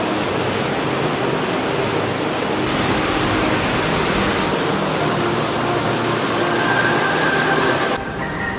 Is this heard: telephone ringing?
no